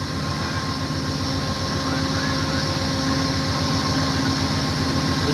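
An Amtrak California Zephyr train idles at the station stop in Ottumwa, Iowa, with a loud, steady diesel engine rumble and humming tones that hold without a break.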